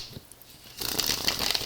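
A brief crisp riffle of Santa Muerte tarot cards being shuffled, quiet at first and then a louder, close-up flurry of card flicks in the second half.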